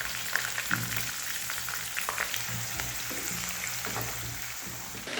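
Finely chopped ginger and garlic sizzle in a pan while a veg rawa kichadi is being made, with a steady sizzle and a few stirring scrapes and light clinks.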